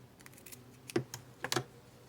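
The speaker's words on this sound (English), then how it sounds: "I'm just going to trim off some of this zipper." A few quick, crisp snips and clicks as scissors trim the end off a zipper, close and sharp, spaced irregularly against a quiet background.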